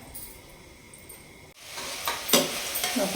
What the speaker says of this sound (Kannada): ತರಕಾರಿ ಸ್ವಲ್ಪ ಫ್ರೈ ಆಗಲಿ ಸ್ಲಿಮ್ ಉರಿನ ಕಡಿಮೆ ಉರಿಲಿಟ್ಟು ಕೈ ಬಿಡೋಣ